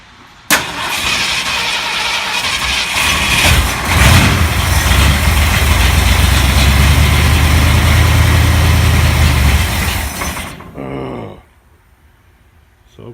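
A 1975 Ford F150 engine cranks steadily for about ten seconds, a loud continuous churning that never catches, then cuts off into near silence.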